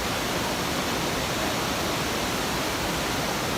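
Water roars through Funagira Dam on the Tenryu River, a dense, unbroken wash of loud rushing noise with no voices over it.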